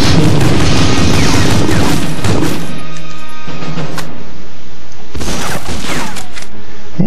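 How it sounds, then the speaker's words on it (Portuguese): Heavy machine-gun fire rattles in the World War II shooter Medal of Honor Frontline, loud dense bursts crackling over booming impacts, with short lulls between volleys. "tem uma metralhadora lá no fundo"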